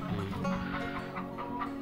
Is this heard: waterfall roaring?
no